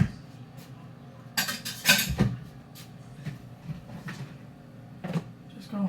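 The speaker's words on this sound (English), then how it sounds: "Just going to put lids over stuff." Metal lids clank and clink onto cooking pots in a home kitchen during a Sunday roast chicken dinner, a few bright close knocks and scrapes, with some voice in the clip.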